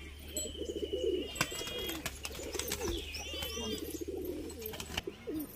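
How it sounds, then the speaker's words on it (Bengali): Pigeons coo in a steady run of soft, rolling calls close by, with a few sharp chirps and clicks in between and a low constant hum underneath. "তো বন্ধুরা একটা মাদি পায়রা দেখুন"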